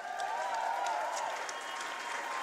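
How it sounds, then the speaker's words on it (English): An audience at a lip sync Broadway fundraiser claps and cheers for a Mamma Mia act, steady dense applause filling the hall with a few whoops on top. "give one more cheer for Mamma Mia."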